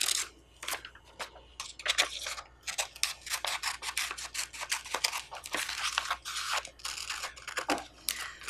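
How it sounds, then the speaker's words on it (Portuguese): Scissors cutting out a paper circle in a classroom craft activity: a string of short, crisp snips and paper rustles, close and moderately loud, in an irregular rhythm with brief pauses. "Pegue a tesoura e recorte o círculo."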